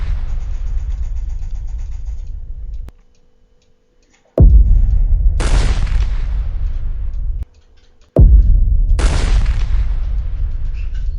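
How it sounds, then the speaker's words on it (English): Bomb blast effects at the Africa Aerospace Defence air show, staged alongside a South African Air Force BAE Hawk and Gripen flypast: two loud, deep explosions, each followed by a sharp crack, with rumbling roar between them and no talk. "Bomb blast and gunfire will be heard."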